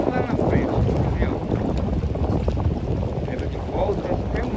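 Steady wind rushes across the microphone aboard a sailboat out on the water, a continuous loud broadband roar with faint water sounds beneath and no speech.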